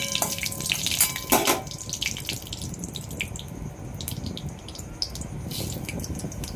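A bay leaf, a halved dried red chilli and panch phoron sizzle in hot oil for a sour dal, a steady close hiss with a few sharper crackles near the start and no talking.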